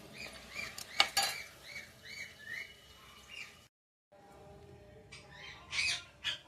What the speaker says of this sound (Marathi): आता झाकण लावून घेऊ आता